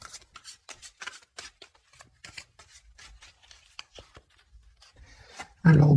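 Oracle cards riffled and shuffled by hand for a reading, a steady run of soft papery flicks and rubs ending in one loud, close burst.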